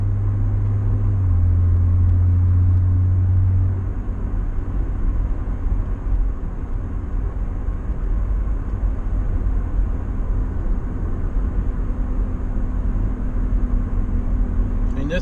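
A 1985 Pontiac Fiero SE cruising along a road, with a continuous low rumble of engine and tires heard from inside the cabin and a lower tone that drops away after the first few seconds.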